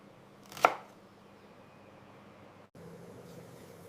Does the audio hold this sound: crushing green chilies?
yes